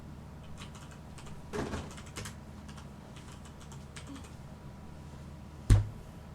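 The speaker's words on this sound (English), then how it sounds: "I have to switch USB so I can use my keyboard" Someone types on a computer keyboard in sparse, uneven keystrokes, with a small burst of clicks early on and one sharper, louder clack near the end, close to the microphone and without talk.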